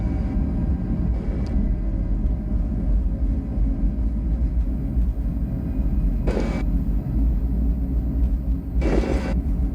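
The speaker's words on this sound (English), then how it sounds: "Set and takeoff thrust. Takeoff thrust set." Airliner engines spooling up to takeoff thrust on departure from Paro, a loud, steady low rumble and roar that fills the cabin throughout, broken by two short bursts of hiss.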